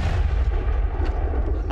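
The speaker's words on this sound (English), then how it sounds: "fire this supersized flechette gun" A supersized flechette gun firing dart-like rounds gives a heavy, booming rumble with a dense low roar sustained throughout, loud and close with no talk.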